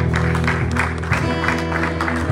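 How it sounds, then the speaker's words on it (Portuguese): A church congregation claps together in short, energetic bursts, the applause blending with sustained music and voices in a lively worship service. "Aplauda o Senhor"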